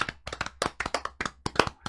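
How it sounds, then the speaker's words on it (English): A short burst of hand clapping, brisk and uneven, like a small group giving quick applause. "Let's go ahead and give a round of applause"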